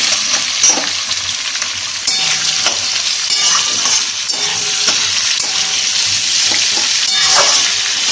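Onions fry in a pan for a mutton curry over medium heat, giving a loud, continuous sizzle with occasional stirring scrapes and crackles, with no talking.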